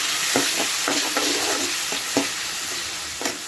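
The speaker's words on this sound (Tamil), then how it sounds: "இது வந்து நல்லா வதக்கிக்குவோம்" Onion, green chili and tomato sauté in a pan for black mochai kuzhambu, with a continuous close sizzle and regular stirring scrapes every half second or so, no voices.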